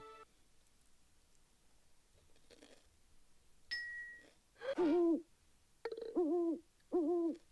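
Owl hoots from the 1997 video game Where in Time Is Carmen Sandiego?, three clear, spaced, wavering hoot calls after a brief ding, loud against a quiet background.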